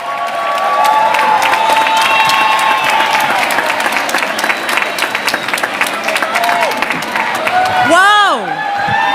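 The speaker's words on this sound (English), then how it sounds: "Let's give her a big round of applause a la primera dama." A crowd at a Dominican heritage reception claps and cheers loudly for the First Lady, with steady dense applause, whoops and excited voices, and a high shrill shout rising near the end.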